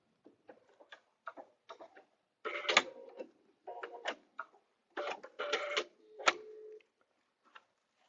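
A sewing machine stitches a vinyl zipper bag in short, rapid bursts of mechanical ticking, separated by brief pauses, close and clear with no talk.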